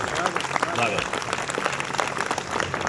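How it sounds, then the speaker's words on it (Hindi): Audience applause at a Hindi poetry recital (kavi sammelan) in Bulandshahr, Uttar Pradesh: dense, steady clapping from a crowd, fairly loud and continuous, with a voice briefly audible over it. "एक बार ताली बजाकर बता दें"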